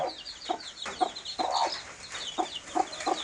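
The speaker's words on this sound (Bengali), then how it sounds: "এগুলো কিন্তু দেশি মুরগির বাচ্চা" Native chicken chicks, grown fairly large, peep and cluck at night, with repeated short calls close by over a steady chirping chorus of the flock.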